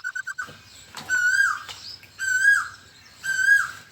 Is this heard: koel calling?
yes